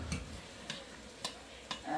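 Garlic stirred into a salsa verde mixture gives soft, evenly spaced scraping ticks, about four quiet strokes against a faint background, with no talking.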